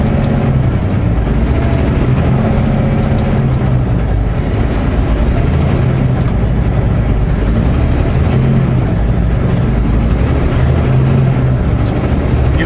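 Heavy truck engine labouring uphill in first gear under a light load, a loud continuous low rumble and roar with rattling, steady throughout and close by, no talking.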